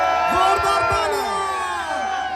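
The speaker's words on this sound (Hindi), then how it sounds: "जोरदार तालियां।" A crowd at a fan meet-up event cheers and whoops loudly, with shouting voices rising together over a short burst of sustained crowd noise.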